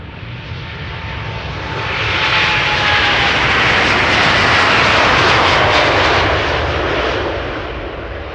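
A KLM airliner departs Amsterdam Schiphol bound for Toronto, its engine roar swelling as it passes close and loud, then slowly fading, with no talk.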